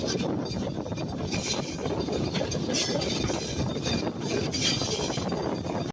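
Chitra Express train running on a curve just after leaving Poradah Junction, with a continuous close rolling rumble, rattling carriages and faint wheel clatter, steady throughout and no talking.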